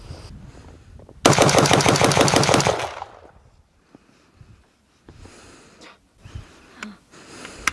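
A rifle fitted with a binary trigger fires a rapid, loud burst of shots lasting about two seconds, with a quiet, rustling stretch before it and faint movement and scattered handling noises afterward.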